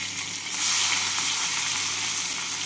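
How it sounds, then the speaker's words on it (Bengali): Chopped onions fry in oil left over from frying fish, with nigella seeds and green chillies, a steady loud sizzle in a pan that swells after the first half second and holds without talk. "পেঁয়াজগুলোকে দিয়ে পেঁয়াজগুলোকে একটু লাল করে ভেজে নিচ্ছি।"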